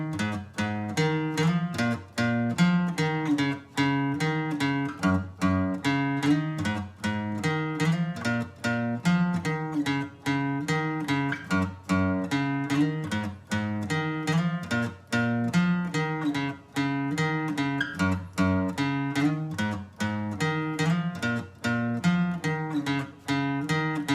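A guitar plays a riff, with steady repeated plucked notes in a regular rhythm for the whole span. The playing is close and clear, and no one speaks.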